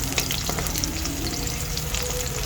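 Garlic and onion sizzle in a pan, a steady close crackle of frying with occasional stirring clicks, no voices.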